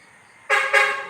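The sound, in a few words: garbage truck honking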